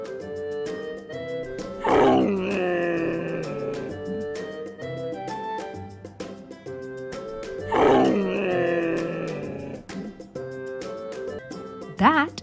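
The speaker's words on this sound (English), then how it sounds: "Camel" A camel groans twice in long, deep, moaning bellows, each rising then trailing off, over steady background music with a brief sharp burst at the end.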